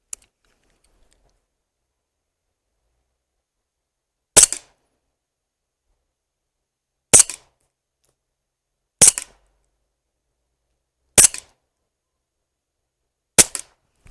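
Five crisp CO2 air pistol shots (4.5mm Sig Sauer 1911) at a paper target, fired at uneven intervals after a few quiet seconds, each a short sharp snap with nothing else audible between them.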